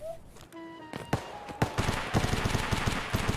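Gunfire in an Escape From Tarkov raid: sharp irregular shots crackle, first sparse then in quicker bursts, moderately loud and close, with a brief tonal game sound early on.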